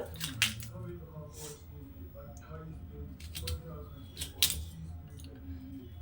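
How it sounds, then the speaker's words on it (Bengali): Knife cutting a peeled pumpkin into medium-sized pieces in a home kitchen, with a few sharp, brief chopping clicks and scrapes spread over a low background murmur. "তো কুমড়োটাকে আমি প্রথমে কেটে নেব"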